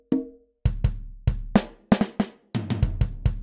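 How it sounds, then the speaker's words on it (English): A dry electronic drum kit beat from Ableton's Session Dry kit, with punchy kicks and snappy snares in a steady groove, close and clear, after a single opening tone. "So we're going to load a drum kit from Ableton."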